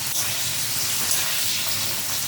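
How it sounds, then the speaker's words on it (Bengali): Potatoes fry with a cumin tempering in a Bengali home kitchen, giving a dense, continuous hissing sizzle heard up close and fairly loud, with no talking. "জিরে ফোড়ন দিয়ে আলুগুলি ভেজে নেব"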